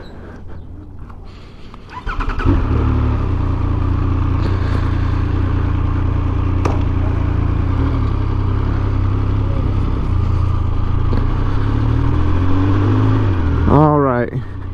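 A Triumph Speed Triple 1200 RS motorcycle starts up and rides, its engine a loud close steady rumble, with a rising rev near the end and a person talking over it.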